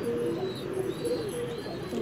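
A captured white pigeon coos steadily at close range, a low, soft rhythmic warble repeating through the short clip over a constant background hum.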